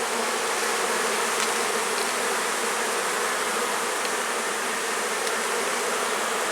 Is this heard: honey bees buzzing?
yes